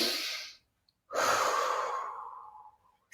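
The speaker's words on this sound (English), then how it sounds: "Take a deep breath in." A deep breath heard up close: a short airy breath, a brief silence, then a long full inhale that slowly tapers off, with the next breath just starting at the end.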